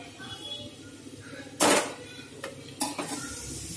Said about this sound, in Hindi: थोड़ी देर ऐसे ही पकाऊंगी, और फिर थोड़ी देर बाद आधा कप पानी डालूंगी इसमें